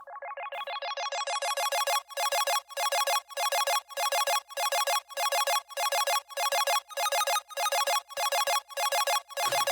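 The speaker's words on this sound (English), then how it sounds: "I have this 8-bit ARP filtering in" A buzzy 8-bit synth arpeggio made in Massive opens with a rising sweep as the filter brightens. It then settles into rapid, evenly repeating pulsing bars, played soloed at moderate volume.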